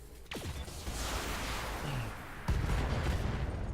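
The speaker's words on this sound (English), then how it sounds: "Firing all weapons" A mech in the BattleTech video game fires all its weapons at once, a volley of booming shots and whooshing projectiles with a heavy impact crack midway, continuous and loud.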